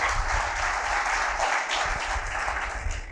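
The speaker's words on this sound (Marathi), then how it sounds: "एकदा जोरदार टाळ्या मग गप्पांसाठी" A room full of students claps vigorously at a talk on the 2025 budget, a thick, continuous wash of applause over a low rumble that stays steady throughout.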